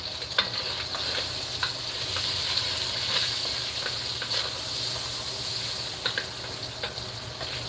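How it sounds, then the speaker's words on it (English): Thick sliced bacon frying in its grease, with a steady close hiss and scattered crackles and pops throughout. "we're going to let this bacon cook just a little bit more"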